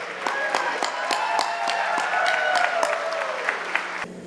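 A crowd applauds at a Surrey North election candidate announcement, dense clapping running steadily for about four seconds with a faint cheer rising beneath it before the clapping cuts off, moderately loud and a little distant.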